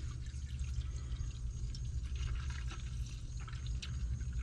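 Engine oil draining from a 2015 Chevrolet Silverado into a pan: a steady, continuous pouring trickle with a low rumble beneath it, moderately close and unbroken throughout.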